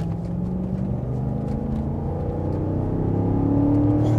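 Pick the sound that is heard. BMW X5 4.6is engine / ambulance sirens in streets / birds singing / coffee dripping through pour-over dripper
BMW X5 4.6is engine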